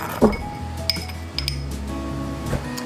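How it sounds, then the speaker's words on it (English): A whisk stirs flour, baking soda and salt in a mixing bowl, giving light, irregular clinks and taps against the bowl, fairly close and quiet, with no talking. "Whisk together."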